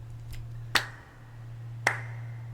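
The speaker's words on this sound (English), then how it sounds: "Oh, we clapped at the same time." Two sharp hand claps land about a second apart over a steady low hum, each crisp and isolated, like two people clapping once on a quiet stage.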